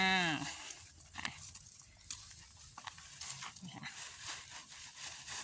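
A dog howls outdoors on a cattle and buffalo farm, a drawn-out cry at the very start followed by quieter scattered farm noises and faint movement.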